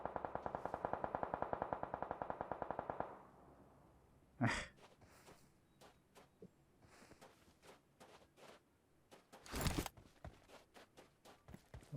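Rapid automatic gunfire from the mobile battle royale game PUBG Mobile rattles loudly in a sustained burst for about three seconds, then gives way to scattered footsteps and clicks broken by two sharp, echoing shots.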